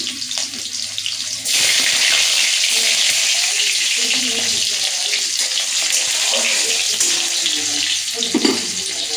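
Cumin, five-spice seeds, tomatoes and green chillies hit hot oil for a Malabar spinach and shrimp dish, starting a loud, steady sizzle that fills the rest of the clip with bright crackling and a few small pops.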